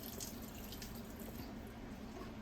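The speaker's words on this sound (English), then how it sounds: "I'm straining a little bit of this oil" Cooking oil strained through a strainer, a soft continuous liquid trickle and drip, faint and steady throughout without any voices.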